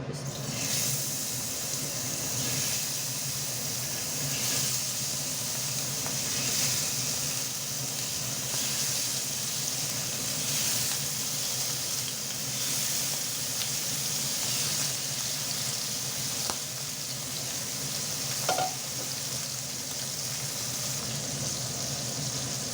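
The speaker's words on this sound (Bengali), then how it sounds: "দেখেন তেলটা গরম হয়ে গেছে ধোয়া উঠতেছে মাছগুলো দিয়ে দেবো" Fish frying in hot, smoking oil in a pan, a steady broadband hiss and crackle held throughout, with an occasional faint clink.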